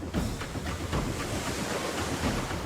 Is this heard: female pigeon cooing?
no